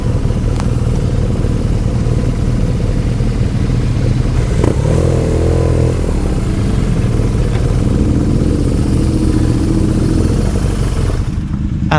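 Motorcycle ride through the Cotswolds on a BMW R nineT or a Triumph, with a steady loud engine drone and wind rumble throughout and slight rises in pitch as the bike accelerates.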